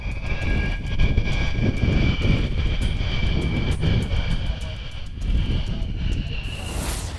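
Dassault Rafale fighter jet engine roars as a steady, loud, broadband rumble with a whine on top, continuous throughout with some wind buffeting.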